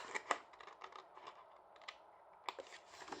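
Scissors snip through a paper card flap along a score line, with soft crisp cuts in a quiet room, a few sharper snips near the start and again toward the end.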